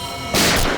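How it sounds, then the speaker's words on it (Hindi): Gunshots are fired inside a room in a TV crime drama. A single sharp, loud blast bursts out of quiet background noise partway through and fades quickly. "अंदर से गोलियां चलने की आवाज आ रही है।"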